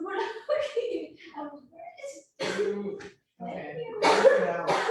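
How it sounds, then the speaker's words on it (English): Coughs and throat clearing break up speech at an online Shabbos study gathering, several short harsh bursts close to the microphone amid talking. "You have a lingering cough?"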